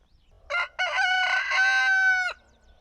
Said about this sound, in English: Rooster, for crowing right as I pushed record.